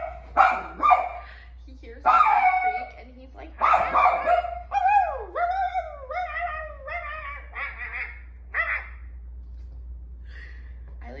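Dog barking in short yips, then whimpering and whining in rising and falling cries, close by with a steady low hum beneath and a person talking in between.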